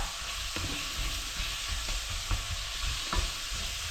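Bacon and onions sizzle in a pan while being stirred and broken up, a constant close frying hiss with periodic scraping and knocking strokes from the utensil.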